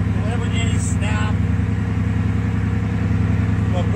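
A Bugatti Chiron W16 engine idles with a steady, deep, rumbling drone, close and continuous, with a faint whine rising briefly over it.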